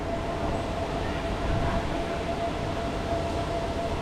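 Steady, noisy platform ambience at Hat Yai Junction railway station, Songkhla, Thailand, with a constant rumble and hiss, and a faint thin tone running through it; no clear voices stand out.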